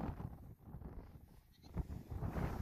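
Goats bleating out in a pasture while being gathered with a border collie, a couple of wavering bleats heard fairly close against outdoor background noise, with no talk over them.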